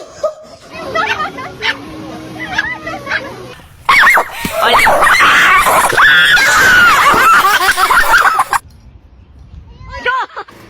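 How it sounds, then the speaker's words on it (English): A dog barks and whimpers in shrill, excited bursts amid loud, chaotic commotion with people shouting and laughing. A long stretch of dense noise is followed by quieter yelps. "Where's that damn dog at?"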